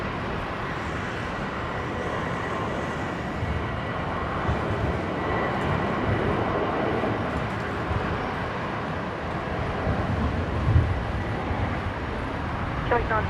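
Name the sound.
Qantas airliner departing Brisbane airport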